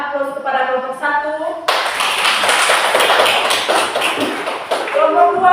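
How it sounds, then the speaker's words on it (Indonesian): Classroom applause for a student group, a burst of many hands clapping together that swells and fades, with voices speaking briefly before and after. "mari kita memberikan aplaus kepada kelompok 1"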